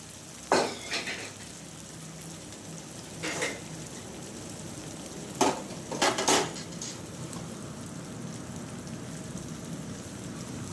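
Intermittent scraping and clattering of a utensil stirring spice paste frying in oil in a pan, a few distinct bursts over a steady low sizzle, with no talking.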